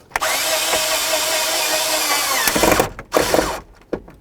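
A power drill drives screws into the steering column of a 1994–2004 Chevy S-10 during ignition lock cylinder work: one sustained loud whir for over two seconds, then several shorter bursts with clicks and pauses.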